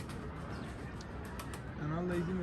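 Pigeons coo faintly in the background, with a low throaty coo rising near the end over a quiet, steady ambience.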